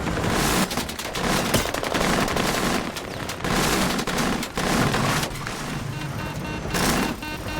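Enemy gunfire in a shooter video game, dense bursts of automatic rifle fire crackling almost continuously, loud and close, with brief gaps between volleys.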